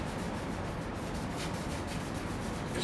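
Scratch-removal product being rubbed by hand over car paint, a continuous brisk rubbing swish with faint rhythmic strokes, close and fairly quiet, no talking.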